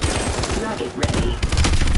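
Rapid gunfire and explosions during a Call of Duty: WWII battle, with dense bursts of automatic fire and booming impacts throughout, loud and close, and a voice briefly heard amid the shooting.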